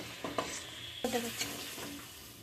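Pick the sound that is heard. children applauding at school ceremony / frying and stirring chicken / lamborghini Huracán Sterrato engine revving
frying and stirring chicken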